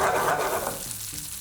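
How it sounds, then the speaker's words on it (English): Onions and peppers sizzling in a little oil, a dense close hiss that fades slightly over a brief moment. "a little bit of oil. You've got your onions and peppers."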